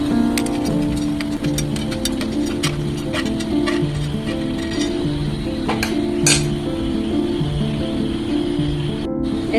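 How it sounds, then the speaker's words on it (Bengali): Crispy fried sweets lifted out of the oil and handled, giving repeated light clinks and crisp taps against a pan over a steady background hum, close by. "শব্দ শুনেই বুঝতে পারছেন কিরকম ক্রিস্পি হয়েছে।"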